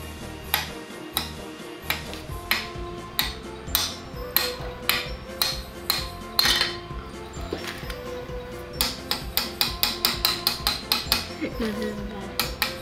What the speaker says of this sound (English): Just hammer it like this.